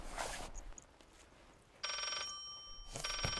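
A telephone rings inside the haunted house of the horror game Layers of Fear, two bright electronic bursts of bell-like ringing separated by a short gap, over faint ambient noise and quiet rustling.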